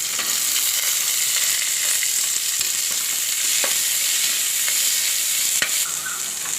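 Sliced onion and curry leaves frying in hot oil give a loud, continuous hissing sizzle with a few faint crackles and occasional stirring knocks, close up with no talking.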